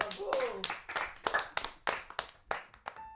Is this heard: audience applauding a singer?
yes